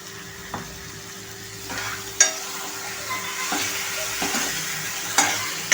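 Vegetable Manchurian mixture with red chilli sauce and soy sauce sautés in a pan, a steady sizzle punctuated by several sharp clinks and scrapes of a spoon stirring against the pan.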